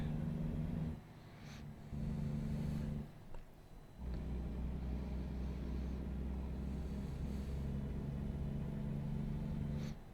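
A truck engine in American Truck Simulator rumbles low and steady while driving, with a few brief dips and surges in the drone and no one talking.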